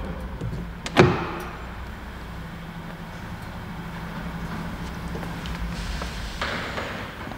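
Parts of a Mercedes C-Class W205 driver door handle are worked loose, a sharp plastic click or snap early on followed by faint handling noises over a quiet hum, with no talking.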